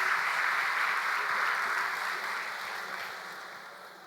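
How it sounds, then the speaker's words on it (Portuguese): Sustained applause from a church congregation, steady and dense, fading slightly toward the end with no talk over it. "Um aplauso para a nossa irmã."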